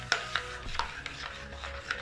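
Chocolate cake batter being stirred in a bowl, giving soft, irregular scraping and knocking sounds, a few light clinks of utensil against the bowl, faint and close.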